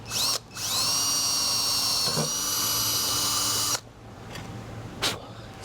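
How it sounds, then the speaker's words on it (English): A high-pitched electric drill whines steadily for about three seconds while drilling a pilot hole for a 1966 Ford Bronco VIN plate, then cuts off, leaving a few faint clicks and handling knocks. "So now that I've got the pilot hole drilled, I'm going to go ahead and drill the actual size that I need."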